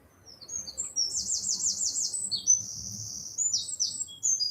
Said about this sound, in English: Oh, I can hear the birds.